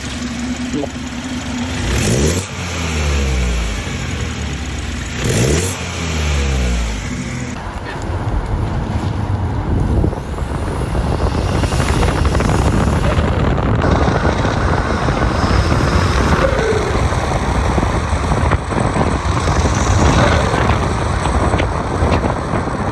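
A BMW F30 with a B48 engine and FTP intake pipe drives along, engine and road noise steady and loud, with a droning rev near the start before the car settles into cruising.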